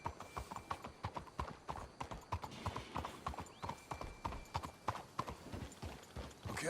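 Horse hooves clip-clop in Red Dead Redemption 2, a steady rhythmic clatter of repeated hoof strikes, fairly close and continuous throughout, with no talking.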